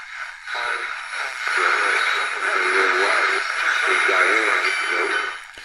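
A Panasonic R-1014 AM portable radio pulls in a distant broadcast station, Boston's WBZ, about 880 miles away. A faint announcer's voice wavers under heavy static and a steady hiss.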